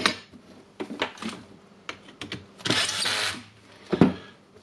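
A Makita DGA504 cordless brushless 18V angle grinder under repair has its spindle turned by hand, giving faint close clicks, light metallic rattles and a short whirring spin.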